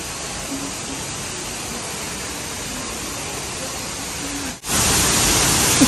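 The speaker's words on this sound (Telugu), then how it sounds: "వాటర్ ఫాల్ సౌండ్ వినిపిస్తుందా మీకు?" Indoor waterfall in an airport terminal, a steady broadband rush of falling water filling the space, continuous and fairly close, swelling louder and brighter near the end.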